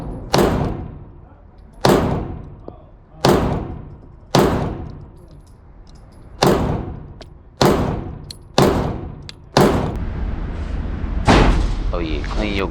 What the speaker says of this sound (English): First, I'm gonna shoot the 19X 3 shots for 3 targets.